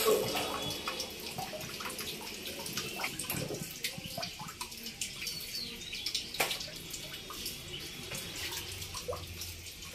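Running tap water splashes steadily as raw meat is washed in a home kitchen sink, a continuous close rush with occasional clatter and drips.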